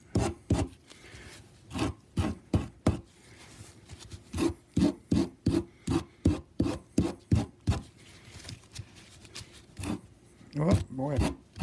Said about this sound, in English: sanding block a little bit here and just kind of sand those off